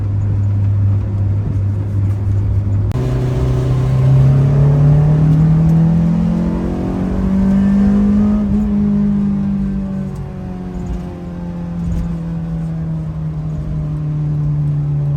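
A Honda S2000 that drives worse after a recent part change revs while driving, its engine note climbing steadily in pitch then easing and holding, loud and close with no talk.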